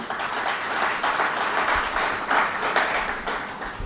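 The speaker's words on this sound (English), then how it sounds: "Please, let's give her a round of applause once again." Conference attendees give a round of applause, a fairly even wash of many hands clapping with a few louder individual claps standing out, sustained for several seconds without talk.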